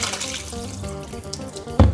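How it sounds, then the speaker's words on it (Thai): Brine from salt-squeezed mustard greens is poured away into a sink, a short run of splashing liquid ending in a sharper splash. "แล้วก็เทน้ำทิ้งนะคะ"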